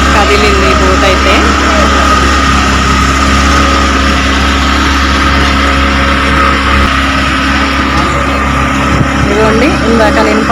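Small boat engine running as the boat gets under way on a reservoir near a dam, a loud steady droning hum throughout with voices over it.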